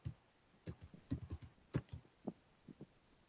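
Fingers type on a computer keyboard in a word processor, an irregular run of about a dozen close, soft key clicks with small pauses, fading out near the end.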